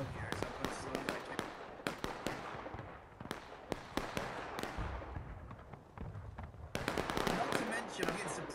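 Sharp booming cannon shots in the Civil War game War of Rights, many reports at irregular intervals, some near and loud and others more distant, with a voice talking between them.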